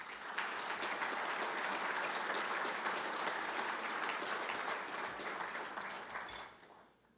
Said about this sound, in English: they truly also are deserving of your round of applause